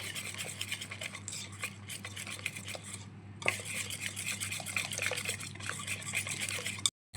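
Gram-flour bajji batter being stirred steadily by hand in a bowl to work out lumps, a continuous wet swishing and scraping, close and fairly loud, with a brief pause midway.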